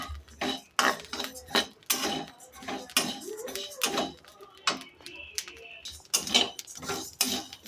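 Rice being dry-fried in a pan, a spatula scraping and clattering against the metal in irregular close bursts, with rattling grain and clinks throughout.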